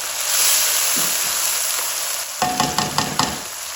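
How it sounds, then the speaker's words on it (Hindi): Mutton frying in released oil for a yakhni pulao, a steady close sizzle that gives way to a run of sharp scraping stirs against the pot near the end. "कितनी जबरदस्त भुनाई हुई है और गोश्त ने ऑयल छोड़ दिया"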